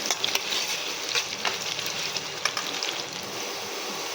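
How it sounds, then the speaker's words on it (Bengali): Chopped onions fry in oil until reddish for beresta, a dense steady sizzle with faint crackles and a few light stirring clicks, close and continuous. "এই পেঁয়াজটাকে ভেজে লাল করে আমি বেরেস্তা বানিয়ে নেব।"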